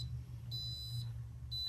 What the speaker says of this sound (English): I feel like every time I video my iron beeps